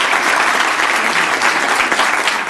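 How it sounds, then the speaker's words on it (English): Loud, dense applause from an audience following a speech by President Clinton, a steady wash of clapping filling the short stretch with no talk over it. "The applause was heartfelt."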